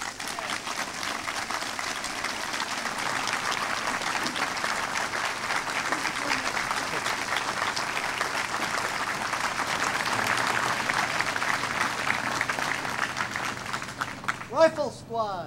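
Sustained crowd applause from a Memorial Day parade audience, dense and steady clapping lasting about fourteen seconds before thinning out, with some voices mixed in underneath.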